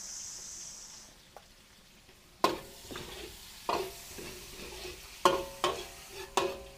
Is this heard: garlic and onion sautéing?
yes